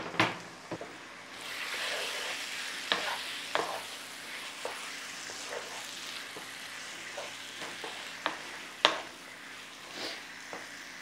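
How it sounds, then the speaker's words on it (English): Chopped chilies sizzle in a frying pan, a soft steady hiss punctuated by sharp clacks and scrapes of stirring, close by and fairly quiet. "In with my chilies, my chopped chilies."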